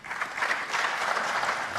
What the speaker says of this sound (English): The crowd clapping every ball that's going in now